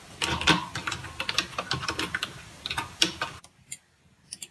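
Fingers type quickly on a wireless keyboard used with a phone as a computer, producing dense close clicking that runs for about three seconds and then thins into a few isolated taps.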